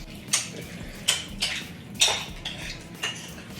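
A fork clinks and scrapes against a bowl while guacamole is mixed, five or six distinct metallic taps spaced irregularly over a quiet background, no talking.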